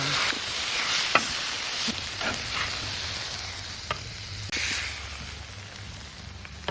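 Chicken sizzles steadily on a hot griddle for hibachi, a continuous close frying hiss with a few sharp scrapes and clicks of a utensil mixed in, no one speaking.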